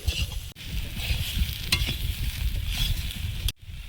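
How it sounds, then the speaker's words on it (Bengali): Pointed gourd and soybean chunks frying in a pan, a continuous close sizzle with clattering stirring strokes and a couple of brief sharp knocks. "তারপরে সয়াবিনটা দিয়েছি, একটু অল্প ভাজবো"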